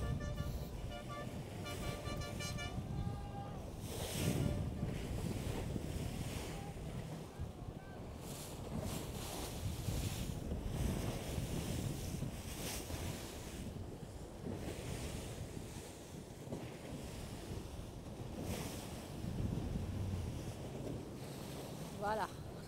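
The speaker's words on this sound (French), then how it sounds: "Ces vagues-là, ce sont les vagues de la flotte." Waves churned up by the fleet of boats escorting a Vendée Globe sailboat across the finish line wash and slap steadily, mixed with heavy wind buffeting the microphone throughout, with no talking.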